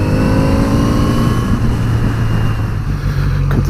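A 2018 Kawasaki Z900RS motorcycle with its single standard exhaust can revs loudly and close, its engine note rising and then settling into a steady, throaty drone.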